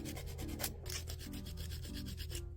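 Quiet rhythmic rasping of a nail file scraping back and forth across an acrylic polygel nail, steady quick strokes heard up close.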